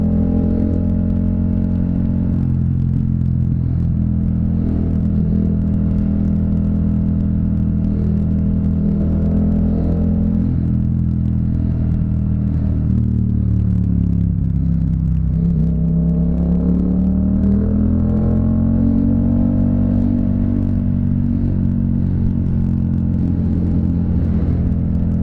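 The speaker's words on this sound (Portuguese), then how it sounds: "essa desaceleração da MT ainda que sai embolando tudo, fazendo barulho, explodindo" A Yamaha MT-07 motorcycle with a sport exhaust rumbles steadily in traffic, its engine pitch sinking and rising through long decelerations, loud and close, with faint irregular crackles.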